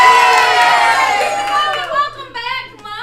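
A live game-show studio audience cheers wildly, a loud, dense roar of shouting and screaming voices that swells, then eases slightly into scattered excited whoops.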